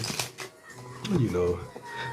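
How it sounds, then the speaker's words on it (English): Tarot cards being shuffled give a brief rustling riffle under a person's speech, close and moderately loud. "we're going to shuffle a bit here"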